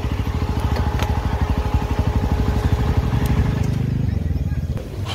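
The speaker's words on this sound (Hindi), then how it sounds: "बाइक को रखते हैं।" A motorcycle engine chugs steadily with a rapid low idle throb as the bike is parked at a crowded tribal unity rally in Ranchi, Jharkhand, loud and close with crowd noise behind.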